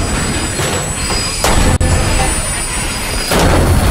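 A train rolls along rails in the video game Metro Exodus, a steady close rumble with hissing noise and a few sudden louder surges and one abrupt sharp break.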